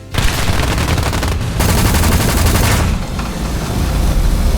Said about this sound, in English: the Spitfire landed a spectacular hit with his Hispano cannons, severely damaging my airframe